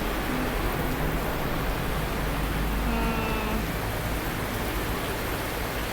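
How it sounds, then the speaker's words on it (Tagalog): Steady rain falling in Hong Kong, a dense, even hiss of downpour on surfaces that holds constant throughout, with no voices. "Kasi wala pang tigil ang ulan dito."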